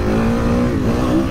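A 2023 Kawasaki KX 450 motocross bike engine runs close and smooth, a steady buzzing drone with a slight rise and dip in pitch, alone without talk.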